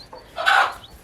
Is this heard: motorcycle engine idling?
no